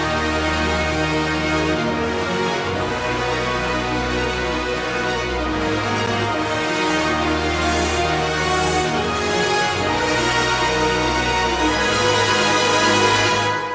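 Epic orchestral music mix built on big stacked chords, dense and loud throughout with sustained low tones shifting under a bright, reverberant full-band texture, no voices.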